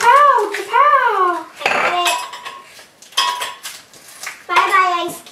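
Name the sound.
ice cubes popped out of a tray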